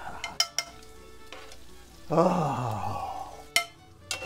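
Caramelized onions and mushrooms in butter are stirred in a skillet, with scattered utensil clinks and scrapes followed by a loud burst of sizzling that fades. A voice briefly speaks.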